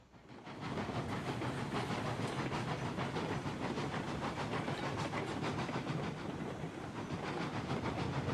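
Steam locomotive in the Railroads Online video game, chugging steadily: rapid, even exhaust beats with hissing steam and rolling rail noise, starting after a brief quiet moment and staying loud and close, with no talking.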